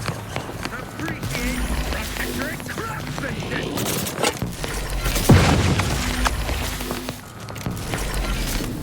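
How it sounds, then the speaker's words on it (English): Explosion in the video game The Outer Worlds 2, a loud boom bursting up mid-clip amid ongoing combat noise with gunfire and dense game sound throughout. "Explosion?"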